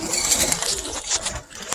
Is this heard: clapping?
no